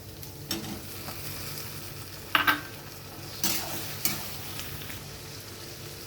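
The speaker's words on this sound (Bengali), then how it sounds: "পেঁয়াজ আদা রসুন ভাজা ভাজা হয়ে গেছে, এবার আমি দিয়ে দেবো টমেটো কুচি।" Chopped tomato going into a pan of frying onion, ginger, garlic and green chili, a steady sizzle broken by a few sharp clanks and scrapes of a spatula against the pan, close, with no voices.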